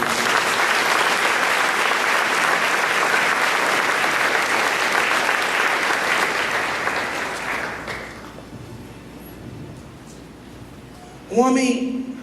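A church congregation applauds Jesus during a sermon, a loud, full burst of crowd clapping that holds for several seconds, then thins and fades out, after which a voice starts speaking.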